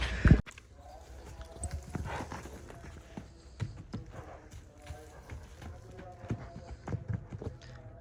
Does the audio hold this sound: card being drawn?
no